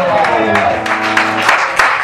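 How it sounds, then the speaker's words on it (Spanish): Audience applause for a singer at a rock jam concert, scattered claps and cheers rising beside a sustained musical tone, with a voice speaking over it. "Tenemos a Heidi a la voz, por favor, fuerte aplauso"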